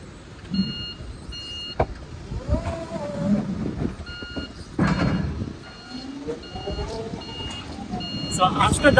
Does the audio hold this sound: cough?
no